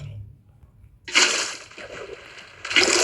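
Water poured into a Minecraft game world, a splashing slosh that bursts in, settles into a gurgle and then surges again, with someone speaking briefly beforehand.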